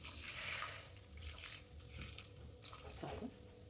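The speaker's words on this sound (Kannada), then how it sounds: "ನೀರು ಹಾಕ್ತಿದ್ದೀನಿ" Water poured over jaggery in a pot to make syrup: a soft, close splashing and trickling pour with a few brief clinks, fairly quiet, with no speech.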